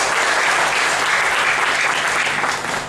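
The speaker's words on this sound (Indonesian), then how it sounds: "Berikan lagi tepuk tangan bagi Tuhan Yesus" A seminar crowd at a church gathering in Timor Leste gives loud, sustained applause. The dense clapping is close and unbroken and eases slightly at the end.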